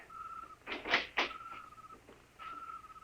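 A door opens in an old science-fiction radio drama set in a dark hideout, giving a few close creaks and knocks over a faint background whistle, with no talking.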